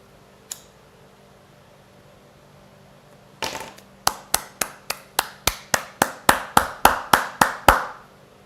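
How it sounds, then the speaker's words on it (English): Hands clap in a quick, steady run of about fifteen sharp claps, close and fairly loud, gradually building in strength over a faint room background. "I'm going to give her a smoking applause"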